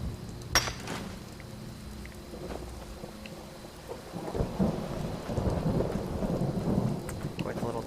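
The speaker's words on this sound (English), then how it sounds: "Quite a little thunderstorm." Thunderstorm in Skyrim at night, steady rain hissing on surfaces under rolling thunder, with a sharp crack early on and a deeper rumble building toward the end.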